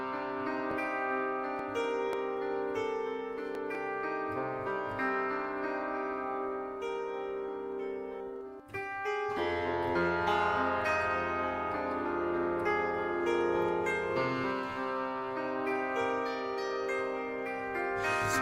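Soft, long plucked sustained piano tones from the Ghost Piano sample library, ringing chords layered into a dense, haunting wash. The notes bloom and overlap continuously, pausing briefly midway before a fuller passage, with no voices.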